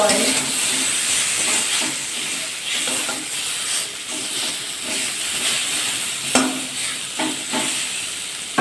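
Rohu fish frying in a pan gives a steady, fairly loud sizzling hiss throughout, with a few sharp clinks of a spatula near the end.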